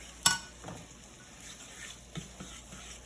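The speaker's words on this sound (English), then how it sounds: "Stir it around and mix it." Cacio e pepe pasta being stirred and mixed with salt and crushed black pepper, giving faint scraping and sticky stirring sounds with a sharp clink near the start and softer utensil taps later.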